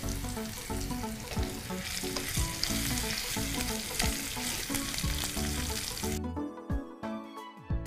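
Spices frying in oil in a pan on a Gujarati cooking show, with a pinch of salt added, giving a steady, loud sizzle that runs almost the whole time and then drops to a thinner crackle near the end.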